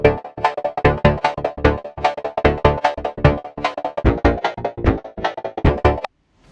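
A synthesized hi-hat pattern plays in the Filterverse filter plugin while being modulated, a steady, rapid run of crisp, punchy hits in a shuffling rhythm that shift in tone, loud and alone, then stop abruptly.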